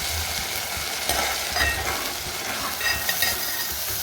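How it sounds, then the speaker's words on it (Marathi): Halim seeds sauté in ghee, giving a dense, steady hiss and sizzle with faint stirring scrapes, close and continuous, with no voices. "घीमध्ये परतून घ्यायचं आहे"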